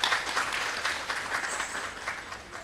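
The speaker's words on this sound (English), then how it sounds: "I would like to applaud for all of you once again" An audience at a peace event applauds, a dense sustained clapping that is loud at first and slowly tapers, with no voices over it.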